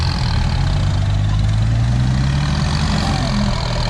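Rocky 195 turbo truck engine idling while stuck in sticky wet mud, a steady loud low rumble with a slight rising tone, continuous and close.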